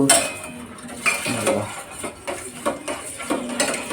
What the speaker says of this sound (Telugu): ఇలాగా ఈ పొడం వేసేసి మనం తిప్పేసుకోవటమేనండి